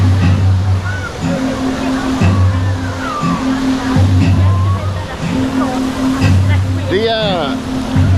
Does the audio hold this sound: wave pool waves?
yes